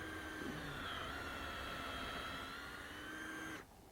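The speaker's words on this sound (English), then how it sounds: "I usually will run this bit in and out a few times like that, just to get all that out of there, all that sawdust out of there from the bit." A drill boring a tap hole into a maple tree, a continuous high whining motor drone with a faint shift in pitch as the bit works in and out, close and steady before stopping abruptly.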